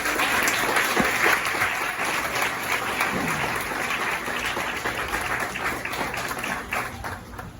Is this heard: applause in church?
yes